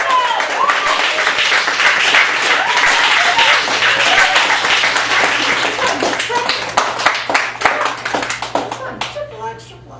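A cabaret audience at a Chicago gallery café claps in a dense burst of applause that thins to scattered individual claps, with some talk near the end.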